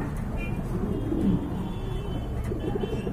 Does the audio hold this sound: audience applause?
no